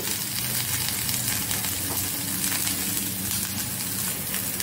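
Coriander leaves frying in a pan with ginger and green chilies for a South Indian chutney, giving a steady, dense sizzle that holds evenly throughout with no pauses and no talking.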